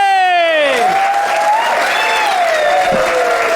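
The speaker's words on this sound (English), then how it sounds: "Please start clapping, start cheering" At a comedy show in Leicester, a packed audience claps and cheers steadily while a host's drawn-out shouted introduction rings over the applause.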